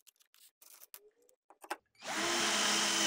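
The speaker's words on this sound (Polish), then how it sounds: "a skoro już go mamy, to wkręćmy w niego jeszcze jeden wkręt" A cordless 12V drill-driver whirs loudly and steadily as it drives a screw into a pre-drilled hole, starting after a few quiet handling clicks and running continuously to the end.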